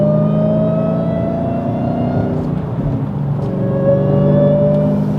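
A Dodge Hellcat revs loudly and steadily, its supercharger whine riding as sustained high tones above the engine's thick rumble, close by with no one talking.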